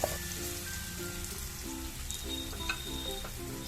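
Chopped ripe plantain frying in a pan with ghee: a soft, steady crackling sizzle, fairly quiet and even, with occasional faint pops and no voices.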